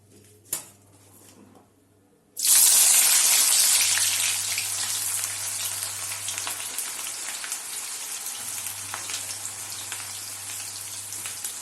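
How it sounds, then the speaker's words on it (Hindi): Sliced onions hit hot oil in a kadai and burst into a loud, steady sizzle after a short quiet lead-in, easing only slightly over time, with a faint low hum underneath. "कढ़ाई में तेल अच्छे से गर्म हो चुका है, हम उसमें ये प्याज डाल देंगे।"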